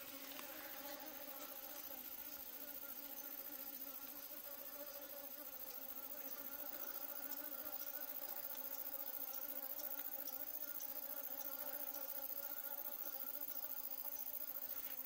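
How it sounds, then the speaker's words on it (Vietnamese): Bees swarm around a hive box after fighting among themselves, a continuous dense insect buzz holding steady and fairly near for the whole stretch, with no talk over it. "Nghe tiếng ong kiểu này là không ổn à."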